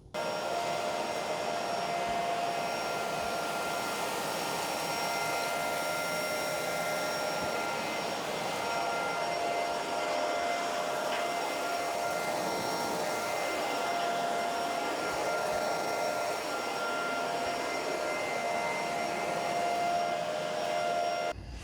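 Bissell and Shark Navigator vacuum cleaners run with their roller brushes switched off, giving a steady, loud broadband whoosh with a faint whine that holds constant throughout, with no talking.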